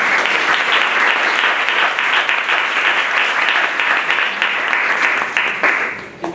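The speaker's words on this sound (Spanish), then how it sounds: "un aplauso a todos" An audience at an academic presentation on human rights and biocultural heritage breaks into sustained, dense applause that holds steady and then begins to fade near the end.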